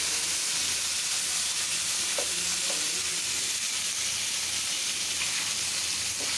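Fish fries in hot oil with a loud, steady, hissing sizzle that never lets up, close and unbroken, with faint pops here and there.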